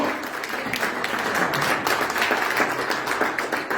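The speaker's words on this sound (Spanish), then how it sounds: "Dame un aplauso a Dios y dile: Dios, lo creo." A church congregation applauds to God during a sermon; steady, dense clapping from many hands fills the space evenly throughout, with no voices on top.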